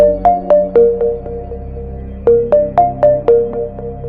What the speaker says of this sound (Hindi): तभी घर के टेलीफोन पर मुखिया का कॉल आया